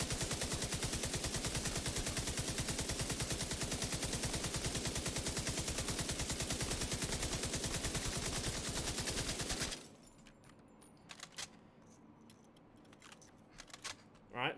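Light machine gun in the shooter The Division 2 firing a long, steady rapid stream of loud shots for about ten seconds, then stopping, leaving scattered faint clicks and small sounds.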